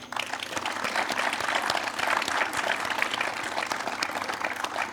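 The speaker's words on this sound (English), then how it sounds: "Can I have one more round of applause for all of them?" A concert crowd at a guitar festival applauds continuously, with dense, even clapping that holds steady throughout.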